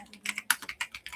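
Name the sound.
typing on a computer keyboard in VS Code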